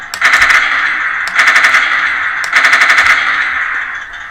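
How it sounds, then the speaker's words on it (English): Machine gun sound effect from the turret of a 1/35 scale RC tank, played in three loud, rapid rattling bursts, each about a second long, with short pauses between them. "So my tank has a machine gun in the turret."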